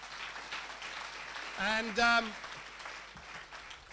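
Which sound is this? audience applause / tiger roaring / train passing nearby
audience applause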